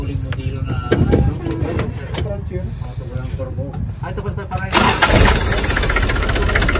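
A vehicle engine with an overheating fault is started after its water pump was replaced. A voice and low running noise come first, then the engine catches with a sudden loud, broadband burst and keeps running steadily nearby.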